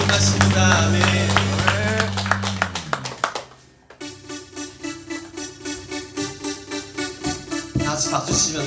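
A church youth congregation claps along in steady rhythm during a Sunday worship song, rhythmic hand claps repeating after a swell of music, close and fairly loud with singing and instruments around it.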